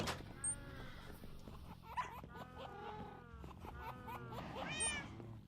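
Cat in Minecraft meowing several times in short rising calls, moderately loud over a low background hum, with a few clicks in between.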